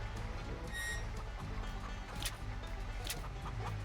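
Chickens cluck in Farming Simulator 25 over a constant low rumbling drone, with a brief higher squawk early on.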